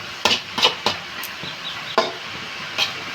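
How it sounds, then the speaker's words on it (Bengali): Helencha greens fry in a pan while being stirred, a soft background sizzle broken by several distinct scraping and clacking strokes of a spatula against the pan, spaced irregularly and close by. "তো এবার এটাকে নেড়ে চেড়ে দিচ্ছি এটা সেদ্ধ হয়ে আসুক"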